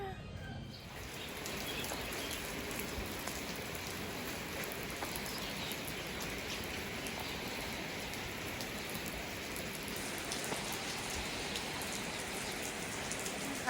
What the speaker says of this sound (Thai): ฝนตกอีกแล้วนะคะ